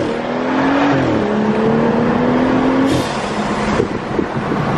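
BMW 435i with catted downpipes and a burble tune, exhaust rumbling loudly and close with a revving rise and fall and a few crackles near the end, no talking.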